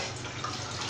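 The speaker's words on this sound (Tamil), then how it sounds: "இதில் 1/2 லிட்டர் அளவுக்கு தண்ணி ஆட் பண்ணிக்கிறேன்." Water pours from a container into a saucepan on a stove, a short continuous splashing stream heard close up.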